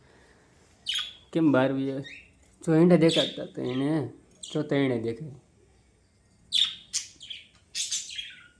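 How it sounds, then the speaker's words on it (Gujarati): House sparrows chirping indoors: short bursts of high chirps come and go between spoken sentences, moderately close, with clustered calls near the end while a person talks. "હવે અમારા ચકલા ઘરમાં બોલે છે"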